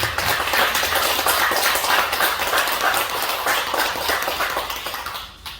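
A lecture audience at a Gwanak Academy opening talk claps vigorously, a dense, loud burst of hand clapping that holds steady, then tapers off.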